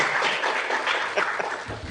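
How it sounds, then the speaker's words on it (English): An audience claps steadily for graduates at a women's political leadership training ceremony, a dense, even patter of many hands filling the short stretch. "Let us continue applauding them, our graduates."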